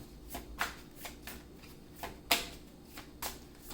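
Tarot cards being shuffled and drawn by hand: a run of soft riffling, slapping bursts about every half second, with one sharper snap near the middle, close by with no talking.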